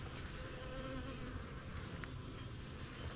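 Honeybees buzzing steadily around an overwintered hive during a frame inspection, a dense continuous drone close by with no talk.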